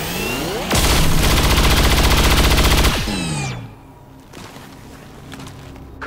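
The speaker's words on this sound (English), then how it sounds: "let's just gun you straight in the face" A soldier's gun in XCOM 2 fires a long, loud, rapid burst of automatic gunfire lasting about two seconds, then cuts off into a ringing tail, followed by quieter clicks and ambient game sounds.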